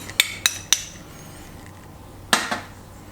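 A metal spoon clinks against a bowl while scraping tapioca starch into marinating pork: three quick sharp taps, a pause, then two more close together, each crisp and near.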